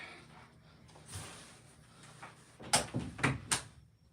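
A door is pushed shut nearby, with soft shuffling followed by a quick run of close, sharp knocks and a latch-like clack.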